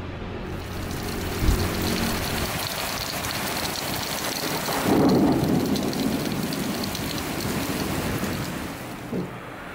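Steady rain falls outdoors under a threatening sky, with a low rumble of thunder swelling midway and a couple of brief thumps, a continuous wash of sound with no voices.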